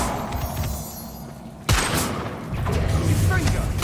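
A Confringo blasting spell cast in the Hogwarts Legacy video game, heard as a sudden loud burst that cuts in over a busy battle soundscape and then carries on into continued crackling and rumbling effects.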